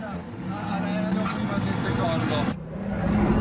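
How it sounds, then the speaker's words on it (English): A Pagani Huayra's loud, sustained twin-turbo engine roar with a turbo whoosh, cutting out abruptly near the end before picking up again. "the loud noise of the turbos"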